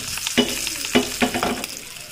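Urad dal and dried chillies sizzle in hot oil for a tempering in a home kitchen, with crackling bursts and spoon stirring in quick, uneven pulses close by.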